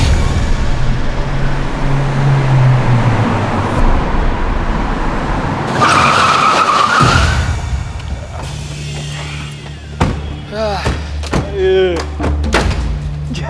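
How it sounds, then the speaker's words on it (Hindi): A car speeds past on a road in Mumbai, a loud rushing surge that peaks and cuts off, followed by thuds and people talking. "इतनी तेज गड्डी चला के पता नहीं इन लोगों को कहाँ पहुँचना है एक दिन"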